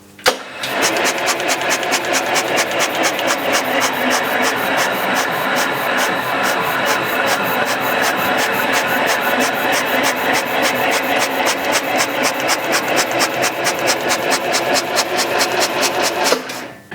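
A Pius die filer machine runs with its air pump, a steady mechanical clatter of fast, evenly spaced pulses that continues at constant loudness for the whole stretch, close and alone.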